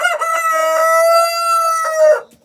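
A single loud, close rooster crow in a hen house, one long drawn-out call that rises and then trails off, with no other sound around it.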